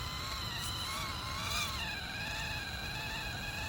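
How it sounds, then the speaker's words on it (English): High-pitched electric motor whine from a Mudboss FCX18 K10 RC crawler as its tyres spin in deep mud, a steady continuous drone with pitch wavering up and down as the wheels churn, close by. "Yeah, you can see just those tyres just keep spinning on the wheels."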